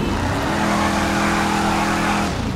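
A car pulls out of a driveway in Grand Theft Auto V, its engine droning loud and close at a steady pitch for a couple of seconds before easing off, with no voices over it.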